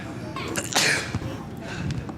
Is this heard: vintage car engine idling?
no